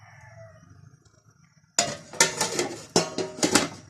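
A metal lid set onto a pot of cooking biryani, producing a sharp clank followed by several quick metallic rattles and clinks, close and loud after a quiet simmering start.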